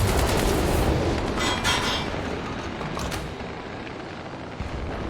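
Tank cannon fire from the video game War Thunder, with a heavy blast and rumbling, crackling debris early on that fades into a lower lingering rumble, sounding alone without talk.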